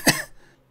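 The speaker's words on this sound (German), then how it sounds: "So, huste mal kurz." A short single cough from a child with mild smoke inhalation after a school fire, close and clear, fading quickly into quiet.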